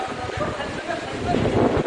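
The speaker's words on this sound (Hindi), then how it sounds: "आप सुन पा रहे हैं जो तेज हवा बह रही है," Strong gusting wind during Cyclone Nisarga on the Maharashtra coast, a steady loud broadband roar that builds slightly toward the end with no clear voices.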